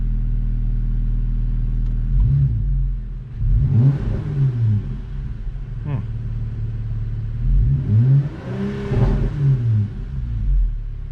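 Jeep Wrangler Rubicon with its muffler deleted idles with a deep rumble, then revs loudly twice in rising and falling bursts, recorded close by.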